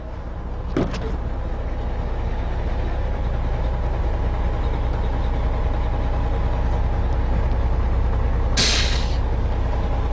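Fire truck water tower pump disengaging after aerial operations: a steady loud engine and pump drone runs throughout, with a short clunk near the start and a sharp hiss of released air near the end.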